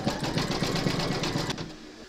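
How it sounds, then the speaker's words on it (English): An embroidery machine stitches a zigzag round on an applique piece, a fast rhythmic needle chatter that runs loudly for about a second and a half, then stops abruptly. "pop your hoop into your machine and stitch round number 6, and that's going to do a zigzag stitch along here"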